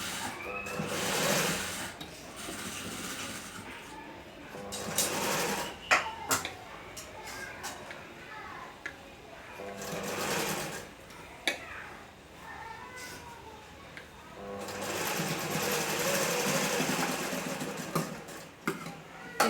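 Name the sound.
sewing machine stitching a kunchigi (baby hood)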